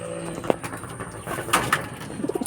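Racing pigeons in a loft make a few soft coos and rustles at close range, mixed with scattered light knocks and scraping sounds, with no talking.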